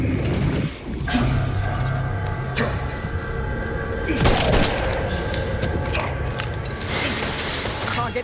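Gunfire in the video game Outer Worlds 2: bursts of shots and sharp booms layered with mechanical clanking and ratcheting, dense and loud over a continuous game backdrop, with talk now and then.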